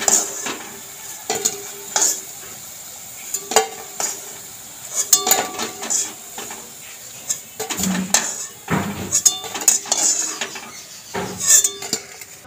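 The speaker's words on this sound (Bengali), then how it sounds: "আলু মাখাটা ভেজে নেব।" Mashed potato and egg kofta balls frying in hot oil with a steady sizzle, broken by frequent stirring scrapes and light metallic clinks of a spoon against the pan.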